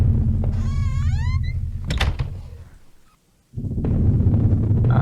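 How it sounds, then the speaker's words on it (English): A door in the HOME game is opened with a brief creak and a thunk, set against a steady low hum that drops away into near silence before returning. "So I guess we can open this door over here."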